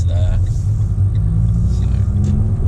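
A car in first gear rounds a sharp, hedge-blind corner, its engine a low, steady interior rumble with a brief higher whine at the start.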